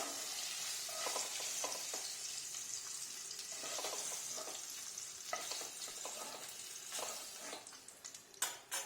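Oil sizzles steadily in a pan, a bright hiss with occasional scraping stirs, close and continuous without any talk.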